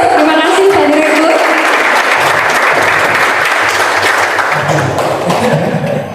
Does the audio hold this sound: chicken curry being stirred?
no